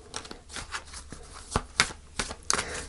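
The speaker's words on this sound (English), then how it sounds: "So I'm going to pull a final card." Tarot cards are shuffled and handled close by in a steady run of crisp riffling and slapping bursts as a final card is pulled for an Aquarius reading. No voices are heard.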